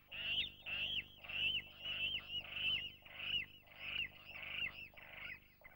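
A water rail, a bird of reed beds and overgrown ponds, giving a series of loud, repeated squealing calls in an even rhythm over grunting undertones, close and continuous with no talk.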